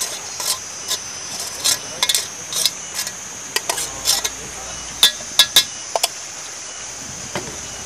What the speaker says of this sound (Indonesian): Nah ini nasi gorengnya kita masukkan perlahan.